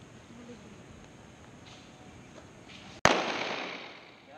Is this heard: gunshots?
yes